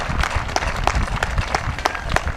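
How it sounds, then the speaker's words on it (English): Outdoor crowd at an AIDS charity 5K run and walk giving a round of applause, scattered claps over a rumbling open-air background, fairly even and moderately loud. "Give yourselves a round of applause for that."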